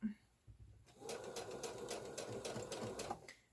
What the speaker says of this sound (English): And I'm using a 3mm stitch to do my quilting on this one.